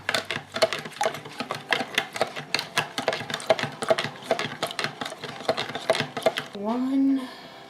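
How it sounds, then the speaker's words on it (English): A spoon stirs pizza dough ingredients, salt and flour, in a bowl, giving fast, steady clicking and scraping strokes up close for several seconds before a brief voice at the end. "Now we are going to mix this all up."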